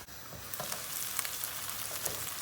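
Onions sizzle and steam in a covered pan, a steady, hissing fry close by with faint crackles, no voices.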